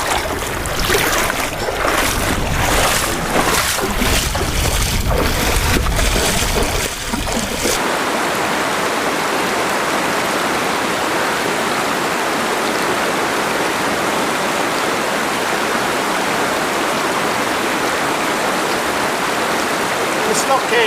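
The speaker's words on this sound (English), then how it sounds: "The Slot Canyon, the only way you can get up them is walking through the river." Water rushing and splashing through a river inside a slot canyon, where the only way up is wading through the stream; loud broadband flowing water throughout, with sharper splashing and sloshing steps in the first few seconds before settling into a steady rush.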